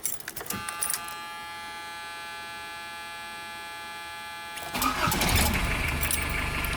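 Keys jangle and a steady hum follows, then the diesel engine of a 1982 Chevette with new glow plugs cranks and catches near the end, rumbling loudly.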